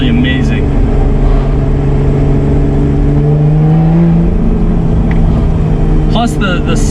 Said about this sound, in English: the engine sounds right behind you are just absolutely amazing